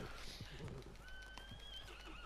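A horse in Red Dead Redemption 2 whinnies over faint hoof clip-clops and soft game ambience at moderate distance.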